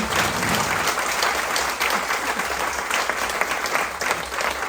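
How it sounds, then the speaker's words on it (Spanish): A crowd claps loudly and continuously, dense applause filling the whole stretch without letting up. "les pido un fuerte aplauso"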